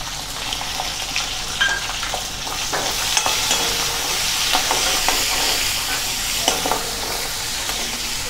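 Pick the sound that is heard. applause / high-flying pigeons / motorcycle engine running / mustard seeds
mustard seeds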